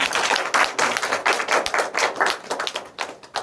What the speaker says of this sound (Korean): 우리 박수로 축복하십시다.